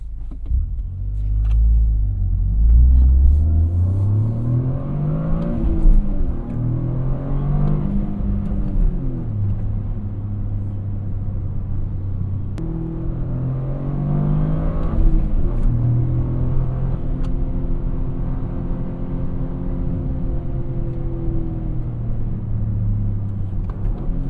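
A Toyota GR Corolla's engine revs repeatedly on a drive, rising and falling in a steady, close rumble with no talk over it.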